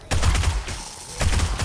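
Pistol fire in the game 7 Days to Die: two loud, close bursts of gunshots separated by a short gap, with a sharp blast and some low rumble in each burst.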